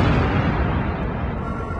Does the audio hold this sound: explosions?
yes